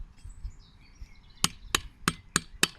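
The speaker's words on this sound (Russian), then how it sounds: "он вбивает молоточком этот желобок" Five sharp, evenly spaced hammer taps ring out as a small hammer drives a spout into a hole drilled in a birch tree outdoors, following a quieter stretch with faint birdsong.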